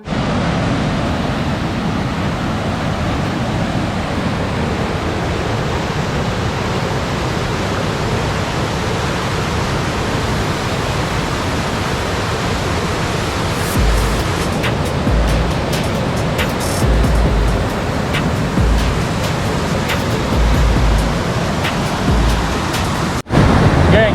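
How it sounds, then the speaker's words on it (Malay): Fast-flowing river water runs high after rain at a fishing spot, a loud steady rushing roar throughout, with a few clattering knocks from handling gear near the end. "tempat kita nak menjala air jadi deras lah"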